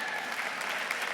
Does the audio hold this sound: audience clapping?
yes